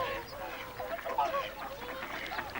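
Wildfowl call from an open waterside, widgeon whistles and lapwing cries mixed in a soft, layered chorus of honks and calls at a moderate distance, with no one speaking.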